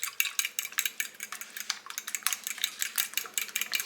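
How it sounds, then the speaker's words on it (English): Fork or whisk beats milk into eggs in a bowl, a quick, steady run of close metallic clicks and scrapes against the bowl with no speech. "And I'm going to get that milk mixed up in the eggs."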